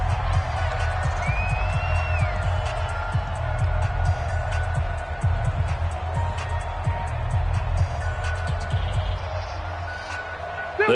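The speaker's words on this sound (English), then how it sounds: "The crowd here in the Dome making things difficult." Crowd noise fills a domed stadium in a football video game, a constant roar with scattered cheers and faint whistles under an ongoing commentator's voice.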